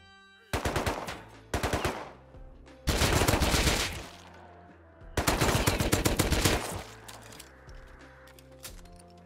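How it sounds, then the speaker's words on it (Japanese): Several bursts of rapid automatic gunfire in the video game Rust, short volleys then longer sustained ones, sharp and loud with quiet gaps between. "さあ、銃声させてしまいましたね。"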